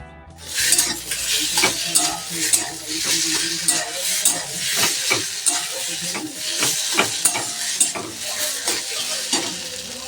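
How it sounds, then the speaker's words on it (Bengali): Kohlrabi pieces sizzle and crackle steadily as they fry in a pan, with frequent scraping stirs of a utensil against the pan punctuating the hiss throughout, close and fairly loud, no voices. "কিছুক্ষণ ভাজার পর তারপরে আমি নামিয়ে নেব তো এই দেখো সুন্দর করে ভাজছি"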